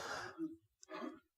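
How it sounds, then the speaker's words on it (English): Two rough throat-clearing coughs close to the microphone, separated by a short pause, quiet overall. "I have to cough."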